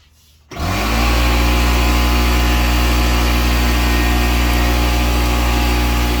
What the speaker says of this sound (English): This is the air compressor.